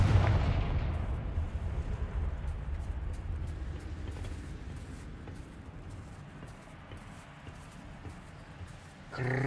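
A Confringo spell explosion in the video game Hogwarts Legacy: a loud, booming blast at the start that rumbles and slowly fades over several seconds, with a second burst near the end.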